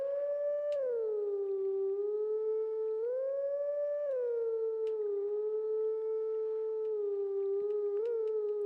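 Wolf howling in The Legend of Zelda: Twilight Princess: a long, clear, melodic howl that rises and falls through several sustained pitched phrases, loud and alone with no talk.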